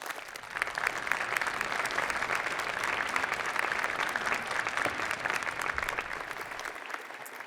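A convocation audience applauds in a large hall, a thick, sustained crackle of many hands clapping at a steady level for several seconds before dropping off abruptly.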